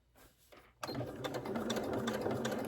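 Sewing machine stitching slowly through thick vinyl while making a Santa-face handbag, a steady close mechanical whir with rapid needle clatter that starts abruptly after a brief quiet moment and runs continuously.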